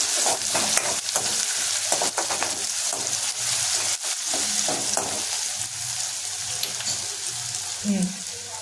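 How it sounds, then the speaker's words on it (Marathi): Crushed chili, garlic and curry leaves frying in hot oil while stirred, a constant close sizzle broken by repeated spoon scrapes and clinks against the pan. "छानपैकी हलवून घ्यायचं"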